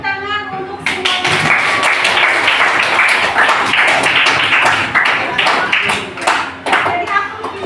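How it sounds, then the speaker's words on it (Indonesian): A group claps and applauds together at an Indonesian talent and potential workshop, dense close applause filling nearly eight seconds after a short voiced opening, with some sharp individual claps standing out toward the end. "tepuk tangan untuk semuanya"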